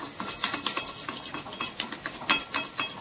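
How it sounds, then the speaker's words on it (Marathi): Raw poha frying in hot oil, a crisp sizzle punctuated by quick rhythmic scrapes and clinks of tongs against the pan, close and lively, with no voices. "प्रकारे कच्चे पोहे आपल्याला ह्याच्यात टाकायचे आहेत आणि पकडीच्या सहाय्याने आपल्याला हे तळून घ्यायचे आहे।"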